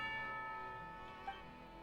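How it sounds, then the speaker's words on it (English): A bell signalling tea time in the video game Genshin Impact rings with sustained, layered tones that slowly fade, soft and steady with one faint tap partway, and no voices. "Hear the sound of a bell."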